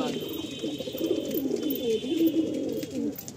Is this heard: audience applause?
no